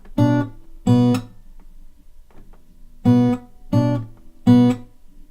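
Guitar plays the opening bar of a song: five short plucked notes in two groups separated by a pause, close and clear, with no talk.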